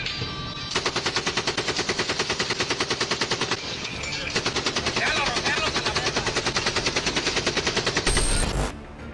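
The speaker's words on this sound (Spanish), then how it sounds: "el CJNG cuenta con un arsenal surtido de rifles, subfusiles y ametralladoras como la FN Minimi que verás a continuación" Sustained bursts of FN Minimi machine gun fire during combat in Tepalcatepec, Michoacán, loud rapid rhythmic automatic rounds running nearly continuously with a brief pause midway, alone without talk.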